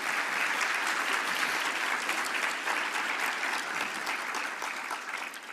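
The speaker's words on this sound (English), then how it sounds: "please join me in offering a sincere, heartfelt round of applause" Sustained audience applause at a science policy conference, a dense, even wash of many hands clapping that holds steady throughout and fades gently toward the close, with no voices over it.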